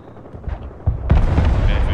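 Artillery fire in Broken Arrow, a sharp booming shot landing near the one-second mark and followed by rumbling blasts, with scattered lower thuds before it.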